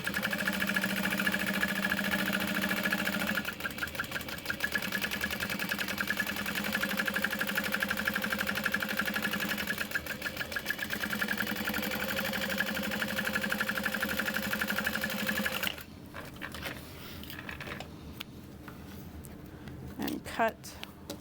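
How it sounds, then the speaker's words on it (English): A sewing machine bastes a panel onto a backpack, running in fast mechanical stitching bursts with brief pauses, then stops around the three-quarter mark, leaving quieter handling noises; a voice speaks faintly under the machine. "I'm going to flip it over to baste it down"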